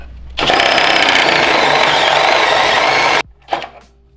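A large step drill bit in a power drill bores loudly through car parts, a harsh continuous grinding roar lasting about three seconds that cuts off abruptly, followed by a brief rattling burst.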